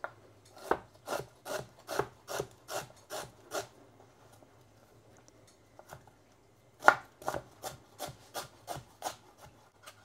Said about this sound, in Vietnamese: Gừng mình thái sợi.